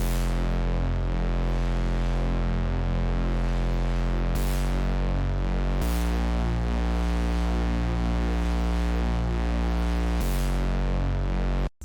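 A loud, gritty synth bass preset called CEO drones continuously in FL Studio, holding sustained notes that shift pitch a few times, thick with harmonics and distortion.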